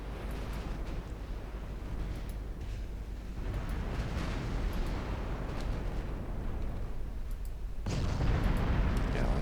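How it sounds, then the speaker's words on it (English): Naval gunfire from light cruisers in Ultimate Admiral Dreadnoughts, a sustained rumbling roar of distant salvos and explosions with a louder surge near the end. "the light cruisers can continue firing at Iwata"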